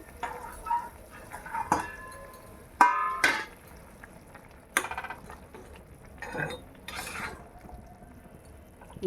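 A metal pot lid clanks and rings as it is lifted off a pot of bottle gourd and jujube chutney cooking on the stove, followed by softer scrapes and knocks of cookware, all close and with no talking.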